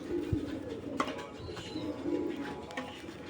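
A pigeon coos softly nearby in a small loft setting, a few low throaty coos rising and falling over faint background noise, with no voices.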